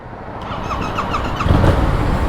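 A Yamaha Tracer 7 motorcycle engine drones steadily while riding, its pitch and loudness building slightly toward the end.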